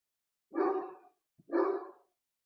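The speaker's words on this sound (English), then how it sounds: "I'm sorry if you can hear my dog barking" A dog outside a house barks twice, with a short pause between the two loud, close barks and silence on either side.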